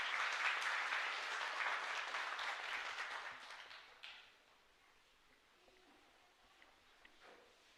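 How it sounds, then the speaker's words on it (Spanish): A church congregation at Mass in the Divino Niño Jesús chapel in Ypané claps loudly for about four seconds, then the applause cuts off into quiet room tone with a few faint scattered sounds. "Fuerte aplauso para el Señor entonces."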